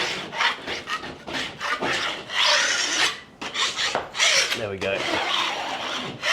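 A blade scrapes plaster across a drywall ceiling crack in repeated rough, rasping strokes, loud and close, with a brief spoken remark partway through.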